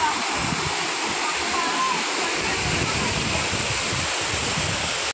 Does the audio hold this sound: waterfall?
yes